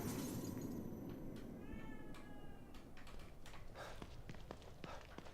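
Cat meowing close by indoors, a few short separate meows over a quiet room, with faint keyboard-like clicking in places.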